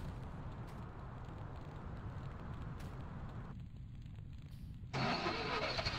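A tractor engine in a farming video game runs steadily at a low, even idle throughout, with a sharper, louder burst of engine noise near the end; no one speaks.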